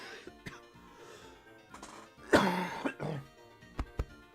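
A person with a lingering cold coughs and clears their throat once, fairly loud and close, set among quieter clicks and game sounds.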